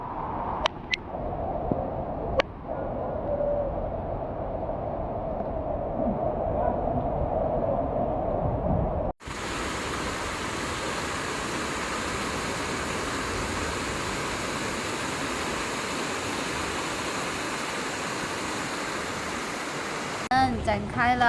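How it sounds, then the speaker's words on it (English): A steady rush of floodwater pours and gushes continuously as a blockage is cleared in Fangchenggang, Guangxi, with a brief drop in sound midway and faint background voices. "打开了堵点，这个水咻的下去了"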